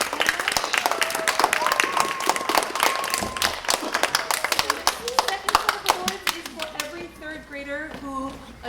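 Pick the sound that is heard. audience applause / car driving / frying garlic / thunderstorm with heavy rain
audience applause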